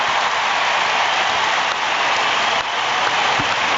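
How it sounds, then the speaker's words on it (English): A rugby crowd at a Wales versus Italy Six Nations match cheers for George North, a dense, loud and steady roar of many voices and applause that fills the whole stretch without letup and sounds like heavy rain. "Huge cheer for George North"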